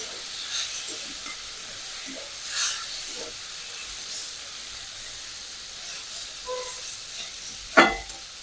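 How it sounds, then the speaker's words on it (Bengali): Water lily stems frying in oil give off a soft, steady sizzle with faint hiss and a few light stirring scrapes, plus a sharper clatter near the end. No voices are heard. "প্রায় ভাজা হয়ে গেছে।"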